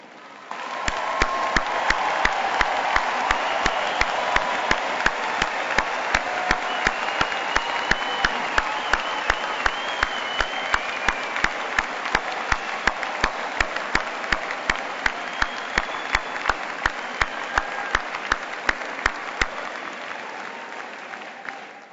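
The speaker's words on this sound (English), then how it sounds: "Please stand, all of you, so we can applaud your achievement." Crowd at the 2013 UMass Lowell undergraduate commencement applauding the standing graduating class, a long, sustained roar of clapping with some cheering mixed in, loud and even for over twenty seconds.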